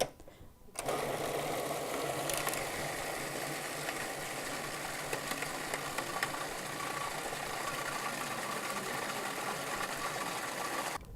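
A Cuisinart 20-cup food processor runs continuously, a steady mechanical whir with rattling that starts abruptly after a brief pause and holds at an even moderate level throughout.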